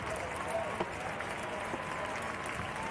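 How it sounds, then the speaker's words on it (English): A crowd of protesters in Times Square, New York City, cheering and applauding steadily, a dense roar of many distant voices with occasional claps and shouts, under busy street ambience. "People are just cheering."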